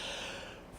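One short, breathy human yawn heard close up and fairly quiet, a single drawn-in rush of air with no talking.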